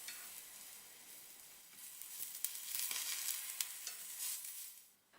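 Aubergine slices frying in oil in a pan, a steady close sizzle and crackle with small pops and surges, tapering off at the end.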